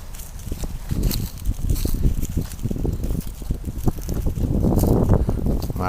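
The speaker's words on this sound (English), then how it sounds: "Wind's coming right into our face right now." Wind gusts steadily across open water, a rough continuous rush with low buffeting that swells louder toward the end, with no voices present.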